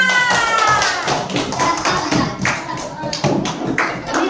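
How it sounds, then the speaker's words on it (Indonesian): Fifth-grade schoolchildren in a classroom clap together after a group presentation on saving electricity, a dense, lively burst of many hands with scattered voices chattering over it, steady and loud throughout. "Oke, tepuk tangan bagi kita semua"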